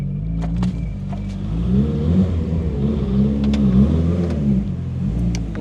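Mitsubishi Lancer Evolution 7 engine idling and being blipped, a loud close rumbling hum that swells and falls with throttle, plus a few faint clicks over the top.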